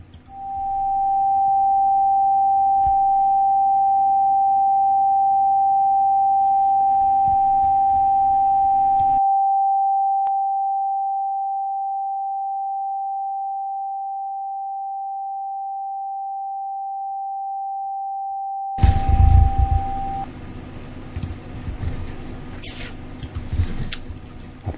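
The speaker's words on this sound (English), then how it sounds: "Now, I'm going to play the G note." A steady pure sine tone at the musical note G holds unbroken for about twenty seconds, loud and constant. Faint background murmur drops away partway through, and busier room noise returns near the end.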